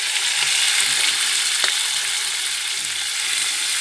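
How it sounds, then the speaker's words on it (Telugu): Tomatoes dropped into a hot frying pan for a spicy cucumber-tomato curry give a steady, loud sizzle throughout, with a brief clatter partway through and no voices. "ఇదిగోండి టమాటాలు వేస్తున్నాను"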